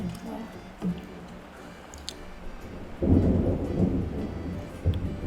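A thunderstorm with steady rain in the Philippines. Rain patters throughout, then a deep roll of thunder swells from the middle and rumbles on through the end, fairly close and strong.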